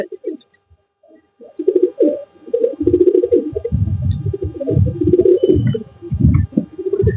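A pet pigeon coos repeatedly at close range, low throaty rolling calls coming in bursts across the whole stretch with little pause between them.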